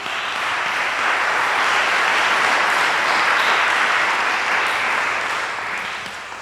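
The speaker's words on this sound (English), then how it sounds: "Can we give one more round of applause to Ryan Eller?" A crowd applauds at length at a talk event, a thick, even wash of many hands clapping that holds strong for several seconds before easing off at the close.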